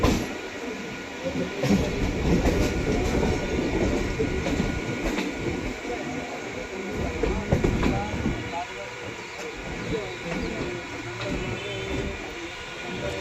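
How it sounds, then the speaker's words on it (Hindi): The Sealdah Duronto Express overtakes a MEMU train at Shikohabad Junction, filling the air with a loud, continuous rail rumble and clattering wheels. Voices are faintly mixed in underneath. "यहाँ पे सियालदा दुरंतो एक्सप्रेस अपनी ट्रेन को ओवरटेक करेगी"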